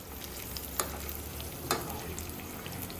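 Steady sizzling of food frying in oil in a pan, with a couple of sharp clicks or spatters; no voices.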